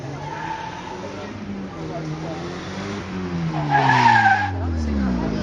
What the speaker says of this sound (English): Hard on the brakes, locking up all four wheels.